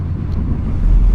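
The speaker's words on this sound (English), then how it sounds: "Man, I can't believe the wind. It is really windy." Heavy, rumbling wind buffets the microphone on a motorbike in a loud, continuous low roar, like riding at speed.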